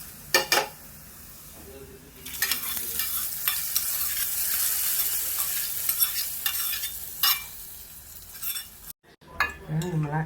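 Shallots, curry leaves and a dried red chilli frying in oil in a pan, with steady sizzling and intermittent stirring clinks of a utensil against the metal, ending in a brief pause and clatter.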